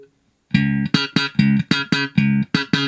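Slap bass played through a Caline Scuru S8B bass amplifier, a quick, punchy run of about ten percussive slapped and popped notes, loud and close, with no voices.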